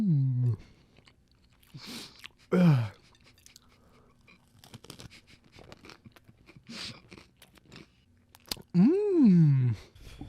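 Wet, crunchy chewing of food dressed with spicy herbs, in short close bursts of mouth sounds separated by quiet, with a person's voice and murmured talk breaking in.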